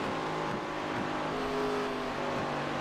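Race car in a racing video game at a Texas oval, pushing through a corner while handling tight, engine droning steadily with small shifts in pitch, moderately faint and with no talk.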